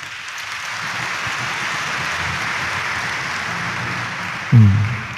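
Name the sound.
congregation applauding during mass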